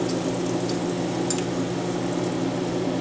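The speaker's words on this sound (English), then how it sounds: "While that egg is frying." An egg frying in butter in a cast iron pan on a ceramic stovetop, a soft, steady sizzle with faint crackles, heard close and alone over a low hum.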